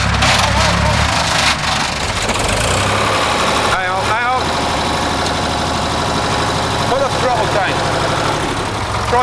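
A tractor engine runs steadily at close range, throbbing at a low idle-like pace while being driven slowly around trees, with people talking over it.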